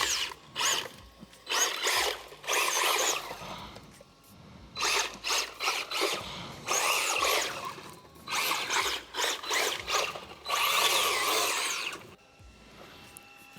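A two-wheel-drive RC rally car splashes through a mud puddle, its small electric motor whining in several loud surges with brief gaps and wet, gritty noise mixed in, heard close with no speech.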